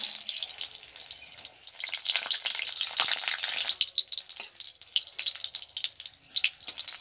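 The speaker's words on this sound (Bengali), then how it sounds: "এবারে আমি কড়াই গোটা শুকনো লঙ্কাগুলোকে দিয়ে দেবো," Whole dried red chillies frying in mustard oil in a kadai, a steady crackling sizzle with irregular pops, close and alone with no talk.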